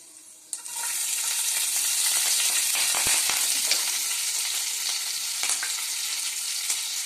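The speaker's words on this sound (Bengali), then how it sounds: "5 ফোড়নটা যখন বেশ সুন্দর ফুটতে লেগেছে" Panch phoron spices splutter in hot oil, a sudden loud sizzle bursting in and holding steady with scattered crackles and pops, close and without speech.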